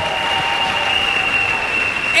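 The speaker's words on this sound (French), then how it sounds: "acclamons chacun pour Jésus-Christ" Audience applause at a French-language Christian religious gathering, a steady dense wash of clapping sustained for a couple of seconds, with no speech over it.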